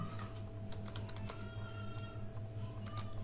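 Quiet keystrokes on a computer keyboard as code is typed, a loose run of light clicks over a steady low hum from nearby equipment, close but faint.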